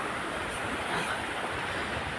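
River water pours over a bridge from above, making a steady, broad rushing roar that holds even and close throughout, with no voices.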